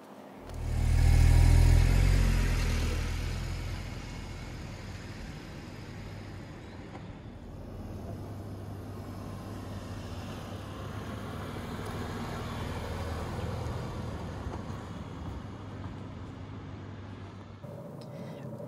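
A 2020 Skoda Kamiq 1.0 TSI starting off with a low engine surge, then settling into a steady driving drone with road noise.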